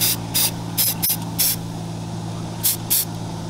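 Short hissing bursts of spray paint hit a PSA AR-15 rifle through a stencil, several quick blasts in an uneven rhythm with pauses, close and fairly loud.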